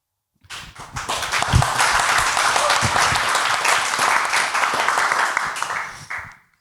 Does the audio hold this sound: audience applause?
yes